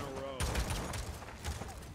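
Gunfire from the Paladins video game as Androxus, with a burst of sharp shots in the first half and scattered bangs after, heard in close game audio while a player talks over it.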